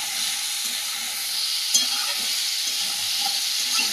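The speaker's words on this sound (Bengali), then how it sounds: "সবজিটা খুব ভালো করে ভেজে নিয়েছি" Vegetables fry hard in a pan, a dense steady hiss close up with intermittent stirring clinks and scrapes, one brief louder clack partway through.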